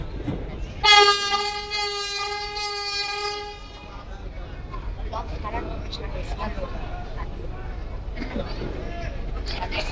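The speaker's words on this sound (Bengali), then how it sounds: "ফাইনালি সুন্দরবন 16 লঞ্চ আবারও ব্যাক গিয়ার করে দিল। লঞ্চটি এখন ব্যাক গিয়ার করে পজিশন করে" The Sundarban 16 passenger launch sounds a long, loud horn blast while reversing out from the dock, followed by a steady rumble of engine and waterfront noise with voices in the background.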